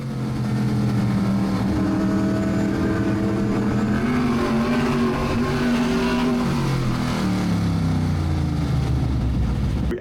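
Race cars battling on track roar past with sustained engine drone and shifting pitch, loud and continuous throughout with no speech.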